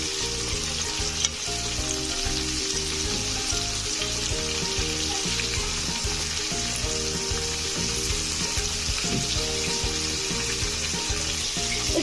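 Breaded chicken pané frying in hot oil in a home kitchen, a loud, steady sizzle running throughout with faint clinks as pieces are flipped, no talking.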